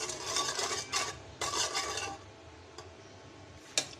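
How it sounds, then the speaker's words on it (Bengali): Sugar is stirred into a mixture in a pot, close scraping strokes of a spoon in a few rhythmic bursts that fade, followed by quieter intermittent taps. "চিনিটা ভালো করে মিক্সড করে নেব"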